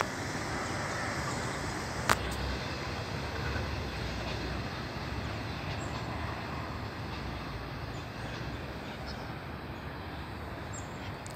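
A very short freight train passes by, a continuous broadband rumble that holds steady throughout, with one sharp click early on and no speech.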